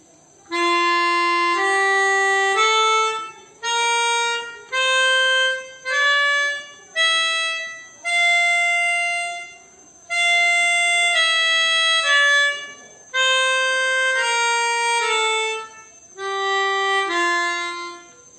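A clean electronic tone plays a stepwise musical scale in F, rising then falling, each note held briefly with short gaps, no voices.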